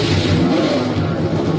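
Stock car engine in the NASCAR Racing 2003 video game, a loud close rumbling rev held steady for a brief moment.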